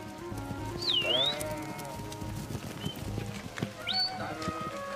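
A large flock of sheep on a working farm bleats at a middle distance, with a couple of rising calls standing out over shuffling hooves and a background voice talking.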